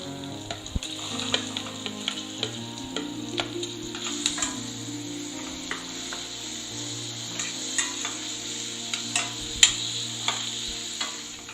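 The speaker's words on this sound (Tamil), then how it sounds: "பச்சை மிளகாய் வதங்கிட்டு இருக்கும் போதே 2 மீடியம் சைஸ் வெங்காயத்தை இந்த மாதிரி ஸ்லைஸ் பண்ணிட்டு சேர்த்துக்கலாம்" Green chillies and two medium sliced onions sauté in oil in a pan, producing a steady close sizzle with scattered light ticks and spatula scrapes, no speech present.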